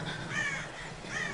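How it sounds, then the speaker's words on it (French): Crows caw a few times at moderate loudness in the Tomb Raider video game, with ambient game sound and no talking. "Oh, des corbeaux."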